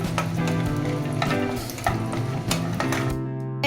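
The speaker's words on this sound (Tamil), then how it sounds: "இப்போ இதில் முந்திரி போட்டு வறுத்துக்கலாம்." Cashews fry in a pan for sago kesari, giving a continuous crackling sizzle with scattered sharp pops and a steady hum underneath, before the sound drops away abruptly near the end.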